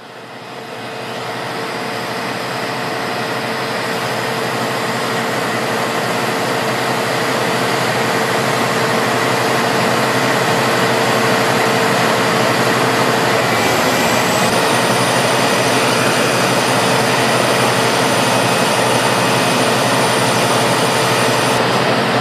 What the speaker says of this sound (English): As the engine comes up to speed, you will see the MagRelief valve open